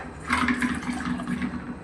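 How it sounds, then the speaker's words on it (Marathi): Water gushes into a metal pressure cooker in a short, steady pour, close and fairly loud, with a hollow rumbling splash and no voices. "त्याच्यामध्ये पाणी टाकून घेऊया"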